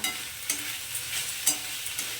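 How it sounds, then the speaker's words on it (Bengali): Fenugreek greens fry in a pan over high heat, with a soft continuous sizzle broken by several sharp scraping stirs at regular intervals, close and fairly quiet. "এখন আমি গ্যাসটাকে একটু হাই করে দিয়ে আমি শাকটাকে ভাজা ভাজা করে নেব"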